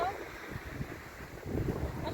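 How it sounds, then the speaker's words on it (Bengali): Strong wind on Southend-on-Sea beach in Essex, a steady roaring gust that buffets the microphone, with faint distant voices underneath. "প্রচন্ড হাওয়া বন্ধুরা, তাই চুলটা ঠিক করে নিচ্ছি।"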